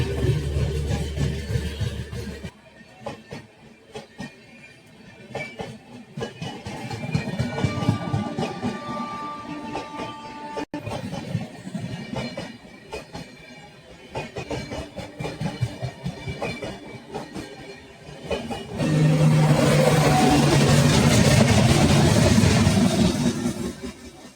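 Awadh Assam Express from Lalgarh to Dibrugarh, hauled by a Ghaziabad WAP-7 electric locomotive, overtaking on the parallel track, heard from inside a moving train: rolling rumble and wheel clatter that swells into a loud, close roar near the end.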